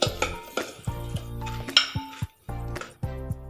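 Mango churmuri being mixed by hand in a bowl, with quick clinks and scrapes of a utensil against the dish in short repeated bursts, close and fairly loud, no talking.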